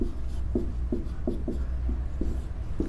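A pen writing on paper while a math problem is worked out, with soft repeated scratching strokes at an even pace, close and moderately quiet, with no talking.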